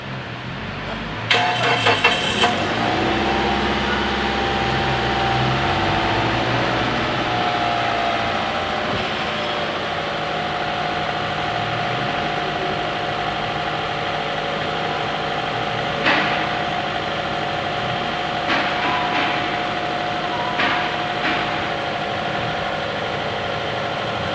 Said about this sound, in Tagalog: paandarin na natin yung ating makina